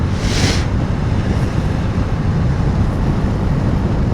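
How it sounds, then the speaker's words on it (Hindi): Strong wind blasts steadily across the microphone in a continuous, loud rushing roar on an open plain along the road from Birjand to Mashhad, Iran, with no voices heard. "काफ़ी तेज़ हवा है।"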